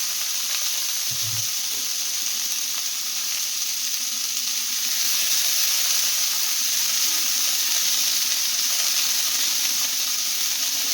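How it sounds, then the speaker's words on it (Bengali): Chopped onion fries in a small amount of oil, giving a loud, continuous hiss and crackle that holds steady throughout with no talk, plus one brief low thump early on. "এবারে আমি দিয়ে দেব এই যে অল্প তেলেতেই আমি দিয়ে দেব এই পেঁয়াজটা খুব বেশি তেল আমি দেব না"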